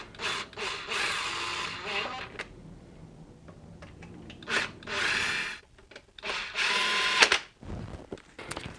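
A power tool whirs in short bursts while running down bolts and washers on a BMW ZF 5HP19 transmission during a rebuild, with quiet pauses between the bursts.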